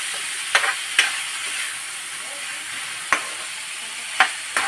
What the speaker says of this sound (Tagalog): tutok mo lang dyan sa niluluto. Tapos, ayan, haluin natin ng konti